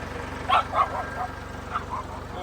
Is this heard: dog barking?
yes